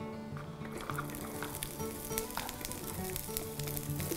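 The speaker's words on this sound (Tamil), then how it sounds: "இப்போது இதே எண்ணெயில் வந்து நம்ம வந்து பூண்டை சேர்க்க போகிறோம்." Garlic sizzling in hot oil, a dense steady crackle close by with small pops, no voices.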